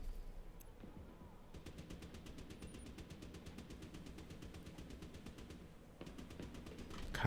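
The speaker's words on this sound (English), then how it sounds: "Let me get my sniper out." Rapid, evenly spaced gunshots from the video game Division 2 crack out in a long, steady burst at moderate loudness and stop abruptly near the end.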